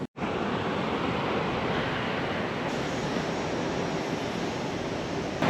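Ocean waves surge steadily onto a Japanese countryside beach where a couple of surfers are out in the water, a loud continuous wash of surf with wind rumbling across the microphone and no voices.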